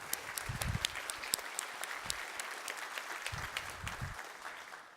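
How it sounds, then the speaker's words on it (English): An audience applauds community members at a corporate opening keynote, steady clapping at moderate distance with occasional sharp individual claps and a few low thumps underneath, fading slightly at the end. "Let's give you guys a round of applause."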